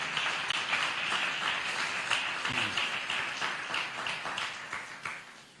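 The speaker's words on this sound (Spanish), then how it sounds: "¿Usted le puede dar un aplauso fuerte a Dios por eso?" A church congregation claps together in a steady, dense wash of applause, moderately loud and fairly close, with scattered sharper claps standing out and the clapping gradually thinning toward the end.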